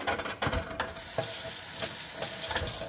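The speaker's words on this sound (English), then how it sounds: "I'm going to go ahead and add just a little more water. Again, make sure it's hot." Hot water runs steadily from a tap while DIY laundry detergent is being made, a soft continuous splashing rush heard close and alone with no talking.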